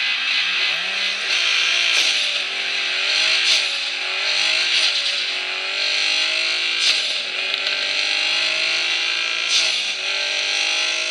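A supercar engine in a racing video game revs steadily and loudly, pitch rising and falling through gear shifts, with a continuous high whine and no talking.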